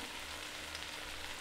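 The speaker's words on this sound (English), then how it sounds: "Add the potatoes directly to the pot." Potatoes sizzle in a hot pot for a smoked sausage and corn chowder, giving a steady, even frying hiss close by with no talking.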